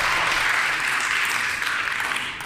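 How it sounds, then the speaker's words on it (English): A crowd applauds steadily in a legislative House chamber, a dense wash of clapping that holds at an even level throughout. "Well, another round of applause."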